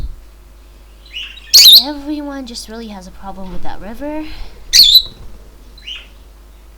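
Birds chirp in the ClanGen video game, two sharp bright tweets that burst out briefly and loud, one early and one late, separated by a stretch of someone talking.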